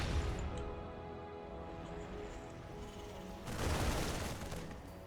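A tank being destroyed during a StarCraft II match, heard as a broad crashing burst of explosion and gunfire that swells up partway through, over a steady din of battle.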